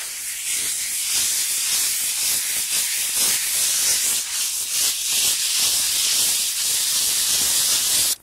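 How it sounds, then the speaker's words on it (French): Light sanding of a dried plastered wall for a two-tone coloured render, a steady close abrasive rubbing hiss that runs continuously, rising and falling slightly with each stroke, with no talking. "vous allez donc procéder à un léger ponçage pour effectivement aplanir l'ensemble de la surface"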